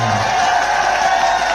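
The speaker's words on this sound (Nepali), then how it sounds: "एकचोटि हाम्रो कालिका भगवती माईले सुन्ने गरेर ताली बजाइदिनुहोस्" A large open-air crowd at the Kalika fair concert in Baglung applauding and cheering, a dense steady roar of clapping lasting a couple of seconds.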